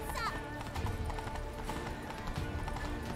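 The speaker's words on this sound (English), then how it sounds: "Well, good luck trying to catch up to the horses." Horse hooves clip-clop in a quick galloping rhythm through a city in The Witcher 3: Blood and Wine, quiet and steady beneath game ambience and faint voices.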